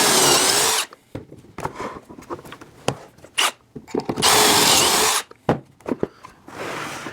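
A power drill bores pocket holes through plywood clamped in a pocket-hole jig, loud whining bursts of about a second each, three main runs separated by quieter handling clatter and rubbing of the workpiece.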